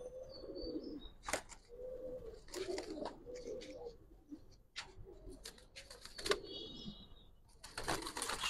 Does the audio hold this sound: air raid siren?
no